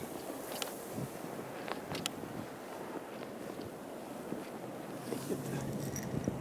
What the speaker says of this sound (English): I think the wind's just going to blow this out